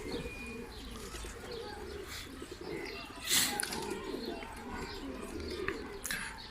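A flock of domestic pigeons in a loft coos and chirps softly against a continuous murmur of birds, with a brief rustle of wings midway.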